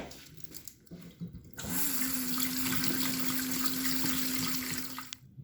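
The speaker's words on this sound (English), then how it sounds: "drain and rinse your chickpeas" Canned chickpeas are drained and rinsed for hummus under a running tap, a steady close splashing stream that starts suddenly after a few quiet handling sounds and stops near the end, with no talking.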